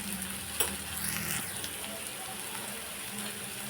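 Chopped tomato with turmeric frying in a pan, a continuous close hiss of sizzling with a few brief stirring scrapes, no voices.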